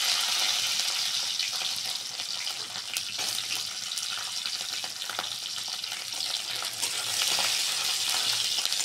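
Garlic and chilies fry in hot oil in a pan, giving a steady, close, loud sizzle with occasional crackles and stirring scrapes throughout, with no talking.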